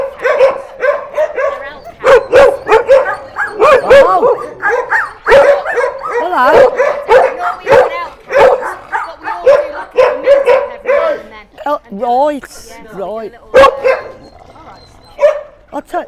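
A pack of Norwegian elkhounds barks and yips nearby in overlapping bursts, with some whimpering mixed in while people talk.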